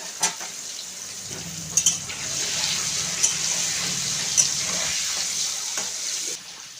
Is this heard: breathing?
no